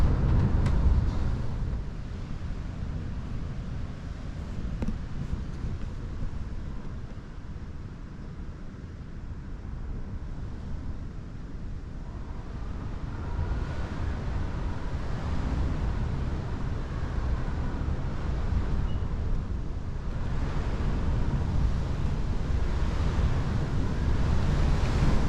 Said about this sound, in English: And then another huge gust comes along.